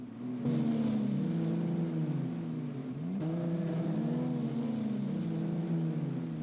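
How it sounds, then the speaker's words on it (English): A Ferrari sports car engine drones loudly and steadily, its pitch rising and falling smoothly as it revs, with a brief dip near the middle before it resumes. "there's also that tremendous sound from Ferrari."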